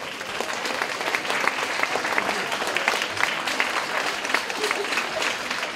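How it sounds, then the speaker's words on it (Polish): An audience at a psychology talk applauds warmly, with steady, dense clapping at an even level throughout and no pause. "bardzo proszę o gorące brawa"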